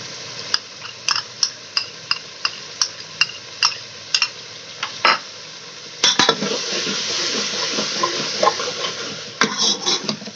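Yogurt being stirred into kachnar keema in a pan over high flame: a run of sharp spoon clicks against the pan, then a steady, louder sizzle with scraping stirs continuing to the end.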